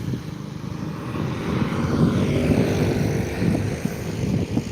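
Airplane taxiing along the runway at Skiathos airport, a steady propeller and engine drone rising slightly and holding, mid-distance with some wind noise on the microphone.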